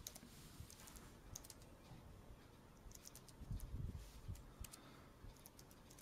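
Light, quick clicks of typing on a Zagg keyboard for the iPad 2, fairly quiet and close, in uneven bursts that bunch together near the middle.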